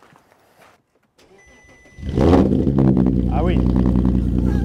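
A Porsche Cayenne fitted with a modified exhaust cranks and fires up after a quiet moment, then settles into a loud, deep, steady idle close by, with a brief voice speaking just as it catches.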